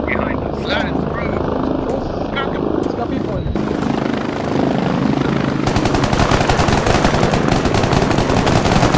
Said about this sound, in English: Chopper landed on us.